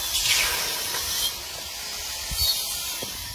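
Water poured into a hot karai (wok) for cooking dal gives a steady, fairly loud hissing sizzle that swells briefly and then settles into a continuous spray-like hiss, with no one talking.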